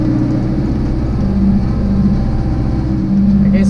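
A steady low engine drone runs throughout, a cab tractor idling and humming continuously at close range with slight fluctuations in pitch.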